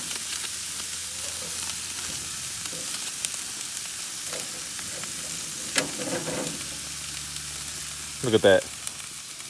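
Pork sausages and a big pork chop from home-raised pigs sizzle in a pan, a soft steady frying hiss with a few clinks and a brief louder clatter near the end, while a voice speaks briefly.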